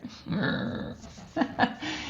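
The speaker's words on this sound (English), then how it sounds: "I'm curious if you can hear my dog snoring." A Shar Pei snores and breathes heavily with a rough, rumbling growl-like texture. It sits close but quiet, with two louder snorts near the end.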